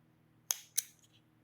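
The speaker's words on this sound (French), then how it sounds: "Et on va couper à ras, sans couper le fil noir." Scissors snip close to the ear as they trim bracelet thread flush: two sharp, crisp cuts in quick succession, then a softer faint click, over near silence.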